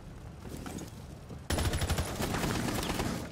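Gunfire in the tactical shooter game Rainbow Six Siege: after a quiet, murmuring stretch, a sudden loud burst of rapid shots breaks out and continues as a dense, crackling volley until the end.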